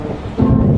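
Rain with a low thunder rumble swelling midway through a brief, dense wash of noise, close and loud with no talk.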